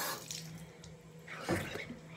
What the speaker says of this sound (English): I'm just gonna get some water and just kind of splash it.